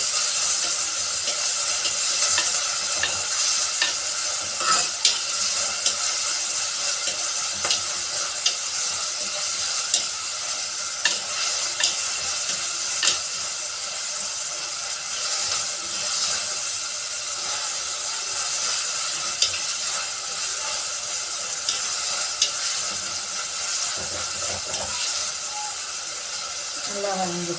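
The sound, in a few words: ingredients sautéing and sizzling in a pan while stirred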